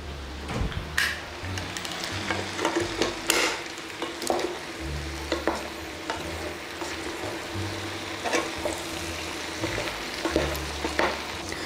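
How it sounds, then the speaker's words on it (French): Sauce simmering gently in a pan with Provence herbs, a soft continuous sizzle and bubbling broken by occasional light clicks and scrapes of a utensil. "mijoter tranquillement pendant 15 minutes"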